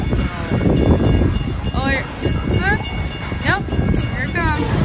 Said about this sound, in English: Here comes the end train, guys.